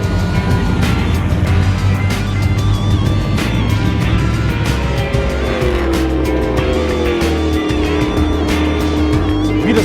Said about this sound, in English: I'm in a 600 horsepower stock car about to go 160 miles per hour.